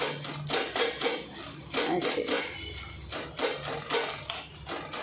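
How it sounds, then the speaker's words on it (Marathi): A wooden spoon mashing cooked fenugreek seeds and amla in a pot, giving repeated soft scraping and squelching strokes in an irregular rhythm, close and moderately loud. "ह्या अशा लाकडाच्या चमच्याने ते असे मस्त असे पावभाजीसारखे मॅश करायचे"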